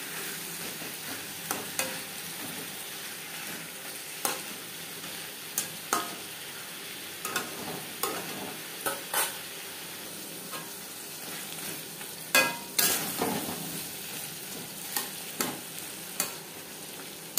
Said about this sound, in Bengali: মাছের তেলের সাথে বেগুন বেশ ভালো করে মিক্স করে দেবো।